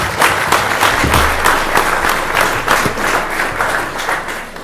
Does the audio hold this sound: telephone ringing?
no